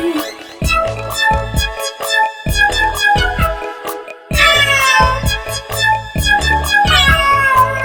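Cat meows sounding over a bouncy Hindi children's rhyme track with a steady beat, several drawn-out mews rising and falling, loud and close.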